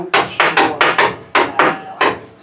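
A hammer bangs on a rear suspension part of a 2005-2015 Nissan Frontier during a leveling lift install: eight sharp, loud metallic strikes in a quick, slightly uneven rhythm, each ringing briefly.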